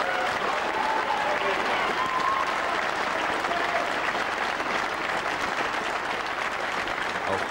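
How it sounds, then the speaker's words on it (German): Sustained applause in a hall during a 9-ball pool match, steady and moderately loud throughout, with faint crowd murmur and a commentator's voice partly underneath. "Hier wieder dieser Applaus von Strickland."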